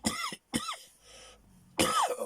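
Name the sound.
cough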